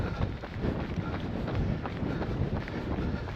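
Strong wind gusts buffet the microphone outdoors during an ultra running race, a rough low roar that swells and dips unevenly, with no clear voices.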